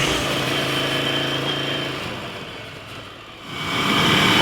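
A Triumph-style Desert Sled motorcycle engine drones steadily off-road on Mont Lozère, loud and close, dipping briefly before surging again as the rider accelerates.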